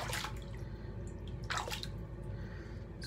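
Water splashing and dripping as an acrylic and wood shaving brush is rinsed, two short bursts of running water over a quiet, steady background.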